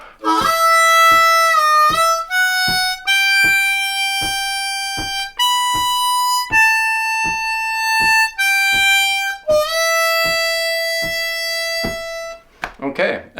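A song's harmonica solo lick played with both halves joined, a run of sustained single harmonica notes sliding between pitches, loud and close with brief breaths between phrases.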